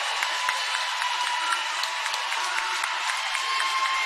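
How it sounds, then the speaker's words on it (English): A volleyball crowd at a high school tournament match roars with cheering and clapping after the final point, a dense, steady wash of applause at moderate level that lasts the whole stretch. "This crowd is going crazy."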